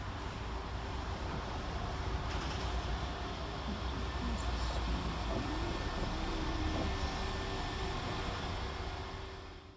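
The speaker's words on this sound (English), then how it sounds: "here comes our train in the form of 172334, working the 1033 West Midlands Railway service from Kidderminster to Stratford-upon-Avon" A West Midlands Railway train, unit 172334, rolls into Cradley Heath station, a steady broadband rumble holding for nearly ten seconds before easing off at the end, with no voices.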